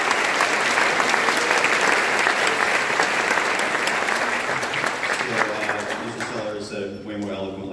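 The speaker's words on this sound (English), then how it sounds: "big round of applause" A concert audience applauds a high school concert band, with loud, dense clapping filling the space that thins and fades near the end as a voice begins speaking.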